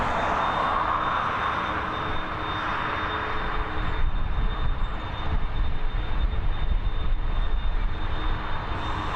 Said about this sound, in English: this Boeing 737 MAX coming in from Edinburgh